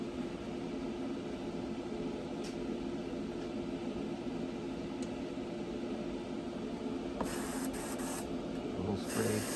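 An airbrush sprays paint onto a Boba Fett figure, a soft continuous hiss under the steady whir of a ventilation fan, with a brief louder burst of spraying near the end.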